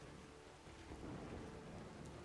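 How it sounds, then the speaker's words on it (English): Steady thunderstorm rain from a weather mod in the Fallout 4 video game, a continuous hiss of rainfall with a low rolling rumble of thunder underneath, with no one speaking. "I do have a weather mod on here. That gives you the thunder and it gives you lightning and all that good stuff."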